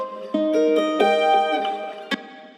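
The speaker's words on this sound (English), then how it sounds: "pitching it down an octave. So now these chords sound like this." Acoustic guitar chords, pitch-shifted by an octave, ring out as a few separate strummed hits with sustained tones between them, close and clear with no voices.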